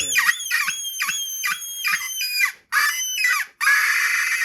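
A handheld predator call imitating a dying rabbit lets out loud, shrill, quavering squeals in quick repeated bursts, then two longer sustained wails near the end, close and with no voices.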